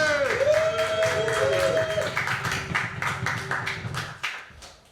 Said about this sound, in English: start stamping the feet, clapping the hands